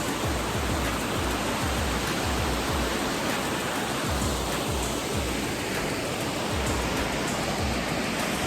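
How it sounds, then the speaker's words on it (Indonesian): Steady, dense rush of a waterfall on Mount Jobolarangan, a constant roar of falling water with low rumbling underneath and no voices. "Jobolarangan ternyata juga ada air terjunnya juga"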